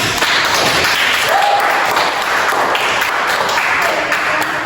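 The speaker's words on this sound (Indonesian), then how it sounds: "Silakan beri aplaus untuk kelompok lamar." A classroom of biology students gives a group steady applause during a microteaching lesson, with dense clapping that holds at an even level throughout.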